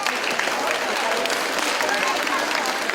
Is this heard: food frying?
no